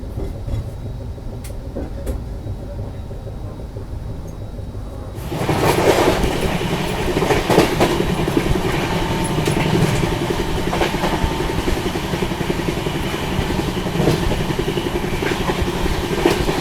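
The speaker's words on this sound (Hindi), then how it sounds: "यहाँ पर अपनी ट्रेन बर्धमान स्किप कर रही है और सामने से कोई वंदे भारत भी जा रही है।" A Howrah Rajdhani Express rumbles along, quiet at first, then a Vande Bharat train passes in the opposite direction, adding a loud, dense roar with rhythmic clatter of wheels that continues to the end.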